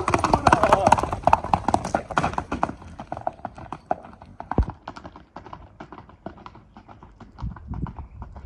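Horse hooves clip-clop on the ground at a Kyrgyz horse market in Kara-Suu, a run of uneven steps up close with a murmur of people talking behind.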